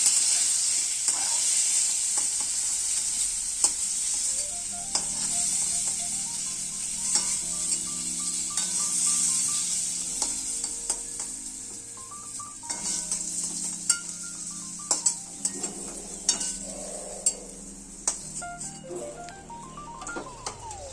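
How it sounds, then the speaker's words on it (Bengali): Eggs sizzling in hot oil in a pan while being stirred with a utensil, a steady frying hiss with scattered scraping clicks and occasional light clinks of metal. "এটা এবার হালকা করে লাল লাল ভেজে আমরা উঠিয়ে নিচ্ছি।"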